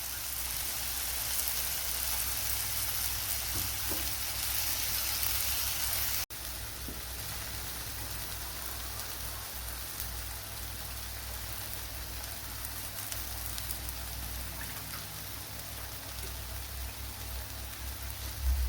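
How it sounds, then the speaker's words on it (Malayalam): Spice paste sizzling as it goes into a naadan sardine (mathi) curry with softened tomatoes, a steady close crackling hiss running throughout with a brief dip partway. "ഇതിലേക്ക് ഇനി അരച്ചു വെച്ചിരിക്കുന്ന അരപ്പ് ചേർത്ത് കൊടുക്കാം."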